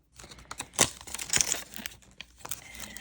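A clear polymer stamp peels away from its acrylic block with soft crackling and sticky rustling, close and irregular, in short bursts over a few seconds.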